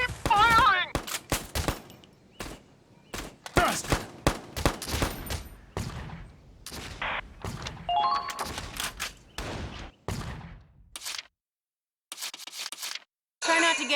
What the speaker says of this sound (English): Keep firing!